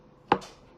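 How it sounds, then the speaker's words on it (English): A single soft knife chop through well-cooked, sticky potatoes and boiled eggs on a cutting board, one short close thud in an otherwise quiet kitchen. "the potatoes, we're just gonna dice them, and also with the eggs"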